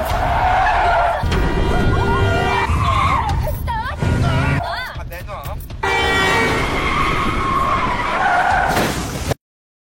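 Car tires screech in a long skid during a crash on a road, loud and close, broken by short pauses, with a horn toot, shrill squeals and voices talking over it before sudden silence.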